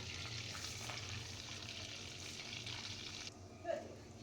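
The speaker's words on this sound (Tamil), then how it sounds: "ஜீரகம் நல்லா பொரிஞ்சிடுச்சு" Cumin seeds crackle and splutter in hot oil and melted butter for a Gujarati-style pav bhaji, giving a steady close sizzle that drops off near the end, followed by a brief clink.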